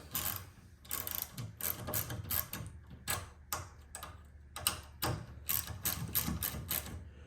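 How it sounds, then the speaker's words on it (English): A ratchet with a 3/16 socket snugs down a canister mod mount, giving rapid, quiet, close clicking in uneven bursts with no talking. "you're going to use a 3/16 socket to go ahead and tighten that down a little bit"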